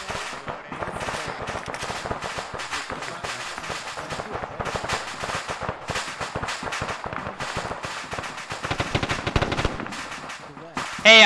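Sustained heavy automatic gunfire in Arma, dense overlapping rifle and machine-gun bursts cracking continuously at mixed distances for the whole stretch, with no speech.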